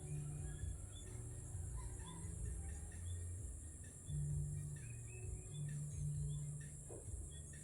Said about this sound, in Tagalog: Mga huni ng ibon ng maririnig mo mga idol.